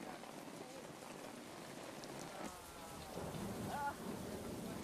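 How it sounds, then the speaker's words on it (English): Heavy rain pours down in a dense, constant hiss, with a low rumble of thunder swelling near the end. "On the new megacontinent near Hawaii, it rains in torrents for a month."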